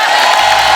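A studio audience applauds and cheers for Bhojpuri star Pawan Singh, a dense, loud wash of clapping and whoops filling the whole short moment.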